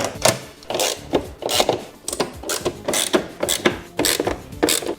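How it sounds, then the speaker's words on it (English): A hand ratchet tightens the air filter lid screws on a diesel V6 Ford Territory, its rapid rhythmic clicks repeating in short close strokes with no talking. "I'll use the hand ratchet to finish them off"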